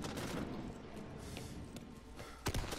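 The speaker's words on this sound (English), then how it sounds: "Ooh, firecrackers." Firecrackers popping in the zombie shooter Back 4 Blood, a crackling spray of small bangs under steady game noise, ending in a couple of sharper, louder pops near the end.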